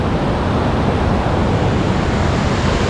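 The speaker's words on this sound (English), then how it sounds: "Should we send it down the waterfall, Rosie?" Waterfall at Burgess Falls State Park near Sparta, Tennessee: a steady, loud, close rush of falling water, with no talk over it.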